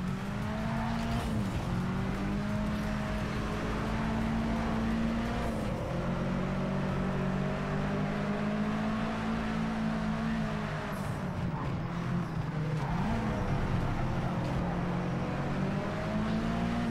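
Racing cars in the Project CARS 3 video game, played on a Steam Deck: a steady, loud engine drone with rising and falling pitch through gear shifts, plus brief tire squeal from a drift in traffic, with no talk.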